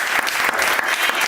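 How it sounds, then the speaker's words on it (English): An audience at a Father's Day tribute applauds, a brief burst of dense, steady clapping close by, with a voice faintly present underneath. "I'm going to give to the round of applause for the Most High"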